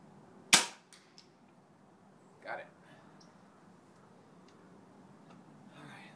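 A pellet gun fired at a 65-yard target outdoors without a bench rest: one sharp, loud crack near the start followed by a faint click, then a softer distant thump about two seconds later, with quiet ambience afterward.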